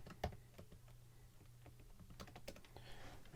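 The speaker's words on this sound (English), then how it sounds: "I can type in a prompt here." Light clicks of a computer keyboard as a prompt is typed, with a quick irregular run of soft keystrokes, faint and close, without speech.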